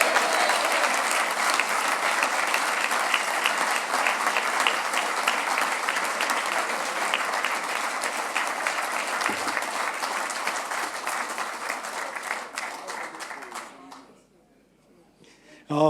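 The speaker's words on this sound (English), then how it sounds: "Please, a big round of applause for our winner of the Hero Cup 2019, Jane Wignall." Loud, dense applause from an audience at a classic car rally awards event at the Royal Automobile Club honors the Hero Cup 2019 winner, sustained for about thirteen seconds before tapering off and falling quiet.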